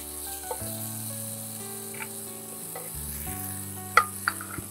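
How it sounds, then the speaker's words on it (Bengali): Boiled kabuli chickpeas tipped into sizzling Punjabi chole masala in a pan, with a steady frying sizzle, stirring, and a few sharp metallic clinks near the end; no one speaks. "এবারে যে কাবলি ছোলা যেটা আমরা অলরেডি সেদ্ধ করে রেখেছি সেটা আমি ঢেলে দেবো"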